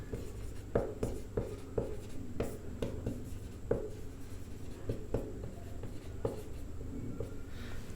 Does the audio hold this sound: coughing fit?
no